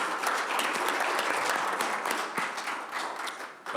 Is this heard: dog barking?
no